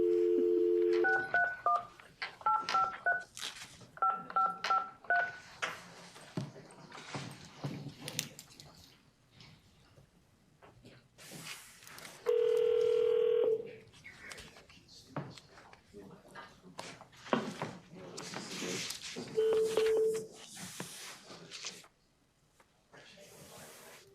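Touch-tone phone beeps sound as a number is redialed, followed by people talking and later steady ringback tones, all fairly quiet and mixed with room noise.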